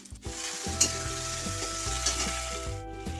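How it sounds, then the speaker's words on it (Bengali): Green chillies and cumin seeds crackling in hot oil for tempering, a bright, dense sizzle that runs continuously up close with a few soft stirring knocks and no speech. "দুটো লঙ্কা ফোড়ন দিয়ে দিলাম, একটু জিরে ফোড়ন দিলাম"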